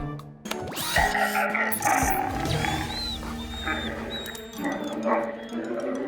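Cartoon robot fire dog from a children's firefighter animation barks loudly amid a busy, layered soundtrack of music and effects, with several sharp yelps and growl-like bursts across the span.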